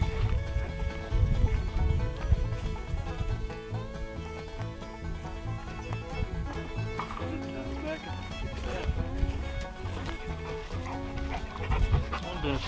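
A big old dog on a sheep farm pants steadily and close by, its breathing partly buried under a busy, dense background and people talking.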